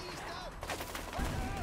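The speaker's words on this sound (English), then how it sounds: "Stop shooting at me." Rapid bursts of gunfire aimed at the player in the A Way Out video game, sharp cracking shots in quick succession, fairly faint and mixed with other game noise.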